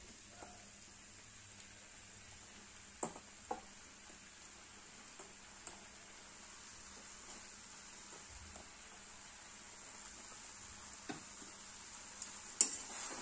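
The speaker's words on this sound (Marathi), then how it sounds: "व्यवस्थित असं मिक्स करून घ्यायचं" Faint scraping and occasional soft clinks of a spatula stirring cooked rice with fried soya chunks and corn in a pan, sparse taps over a low steady background hiss.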